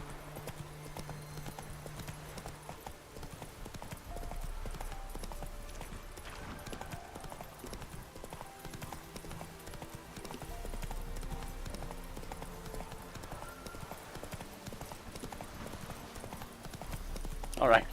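Horse hooves clip-clop steadily in a video game, The Witcher 3, the rhythmic trotting beats close and continuous beneath someone talking.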